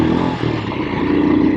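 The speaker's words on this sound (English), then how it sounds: "Oh, this bike runs good. I love this engine." A Royal Enfield Himalayan Scram 411 motorcycle engine running close by, a steady, loud low rumble with even throb and no pauses throughout.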